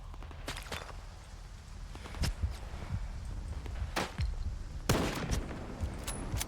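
Gunfire in the video game S.T.A.L.K.E.R. 2 cracks out as scattered single shots, several loud and close with a few fainter ones between, over a low rumbling background with no talking.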